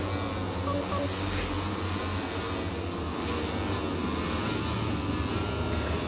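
Moto3 racing motorcycles roll out of the pits at the Portimao circuit, a steady broadband engine drone holding at a constant level with no talk over it.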